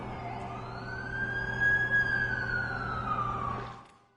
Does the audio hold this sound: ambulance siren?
yes